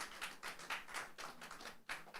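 Scattered applause from a live audience welcoming a speaker onstage at an African conference event, a thin, uneven patter of hand claps running steadily throughout, with no voices.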